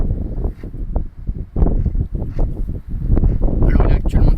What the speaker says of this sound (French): et le vent, il a pas l'air de s'affaiblir